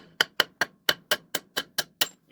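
A hammer pounds wheel studs out of a GM 14 bolt axle brake drum flipped onto its top, with nine sharp metallic strikes in a steady, evenly spaced rhythm, close and clear.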